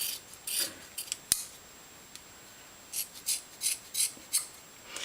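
Scissors cut across a bundle of sewing thread for bookbinding: quiet, crisp snips and rasps, first a short cluster, then a run of five or six closely spaced cuts near the end, with no voices.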